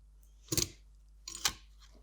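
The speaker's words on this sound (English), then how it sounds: "I always punch my small hole first." Two crisp, close punching clunks about a second apart as a hole punch bites through a small card tag, each with a short mechanical snap and no talking.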